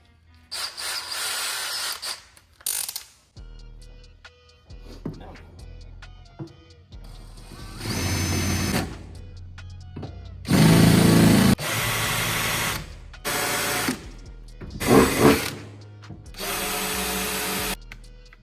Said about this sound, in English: I just gotta drill the hose out.